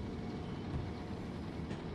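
A train pulls into a station in the Train Sim World 2 railway simulator on the East Coastway line by the harbour, a steady low rumble of rolling wheels and motor noise holding at moderate level throughout.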